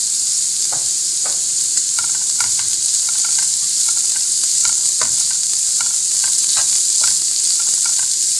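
Beans being fried with spices in a pan give a loud, continuous close sizzle with a dense hiss and regular stirring clicks and scrapes, no voices.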